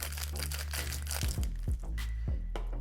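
A drink is shaken hard to chill it, making a dense, rattling crunch that gives way to a few heavy thumps. The sound is close and fairly loud, with no voices.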